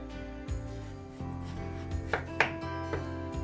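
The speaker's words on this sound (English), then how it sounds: "I will start cutting it into slices and then into small pieces" A knife slices through a firm butternut squash on a cutting board, cutting it into cubes, with a few distinct chopping knocks and scraping strokes close by, and no talking.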